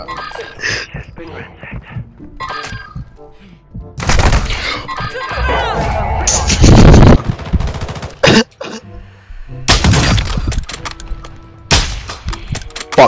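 Gunfire from the Warzone video game rings out in loud, sharp bursts that start a few seconds in and return later, some sustained like rapid fire, mixed with a player's shouting and other game noise.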